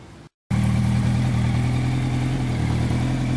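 A 2007 Yamaha YZF R-1 sport motorcycle fitted with M4 aftermarket exhaust pipes runs loud and steady, a close, continuous engine drone after a brief cutout at the start, with no talking.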